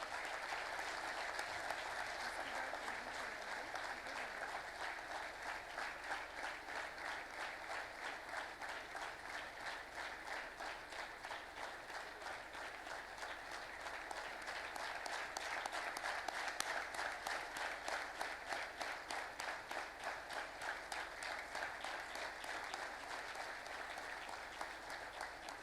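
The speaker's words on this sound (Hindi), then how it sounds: "तालियां बजती रहनी चाहिए" A crowd at a public event in India claps without a break for a long stretch, a full, even wash of applause that swells slightly midway and stays steady to the end.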